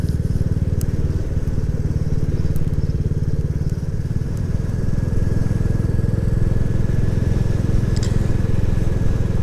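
A Royal Enfield Classic 350 motorcycle on a ride, its single-cylinder engine thumping steadily and loudly at an even cruising pace throughout, with wind noise and no talk.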